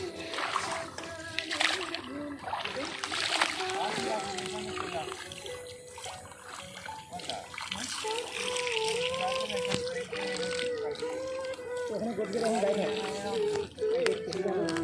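Jute fibres being washed by hand in village river water: continuous splashing and sloshing with trickling runs throughout, mixed with voices and background activity outdoors.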